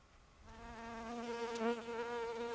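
Insects buzz in a Colorado high-country mountain meadow, a steady, droning hum that starts faintly and swells to a close, continuous whine with no talking.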